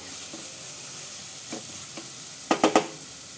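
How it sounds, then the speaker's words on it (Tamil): Ingredients for a konda kadalai chickpea curry are stirred and sautéed in hot oil in a pan over low gas, a steady soft sizzle with spoon scrapes and a quick burst of three sharp clatters near the end. "இதை வந்து அப்படியே நான் நல்லா வதக்கி விட்டுடுறேன்"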